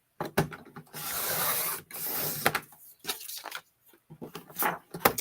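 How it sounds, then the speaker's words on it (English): Scissors or a trimmer cutting 1-inch paper strips for scrapbooking, heard as close, dry rasping and rubbing strokes in bursts with short pauses, no talking. "So I'm going to cut 2 more 1 inch strips."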